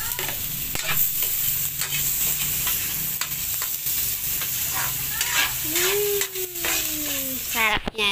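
Onions sizzle and get stirred in a hot pan after garlic while pork menudo is being cooked, giving a steady loud frying hiss with scraping utensil strokes throughout.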